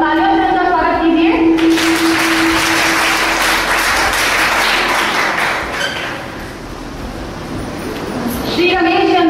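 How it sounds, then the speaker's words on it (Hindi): Audience clapping to welcome the chief guest at a village panchayat project event, a sustained burst of applause between stretches of amplified announcer speech. "कृपया करके दोबारा से उनके लिए तालियों से उनका स्वागत कीजिए।"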